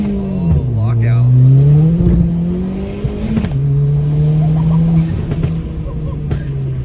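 Race car engine revving hard and climbing through the gears, a loud close-up in-car roar with pitch rising, dropping at each shift and rising again, with voices in the car partly audible over it.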